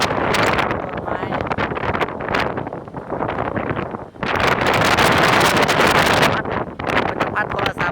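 Strong gusts of Typhoon Megi roaring across a rooftop, loud buffeting wind battering the microphone in surging waves, easing briefly before blasting back, with a voice speaking now and then.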